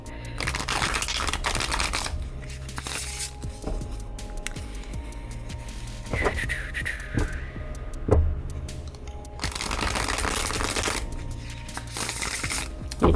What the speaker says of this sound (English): Should I shuffle these ones first?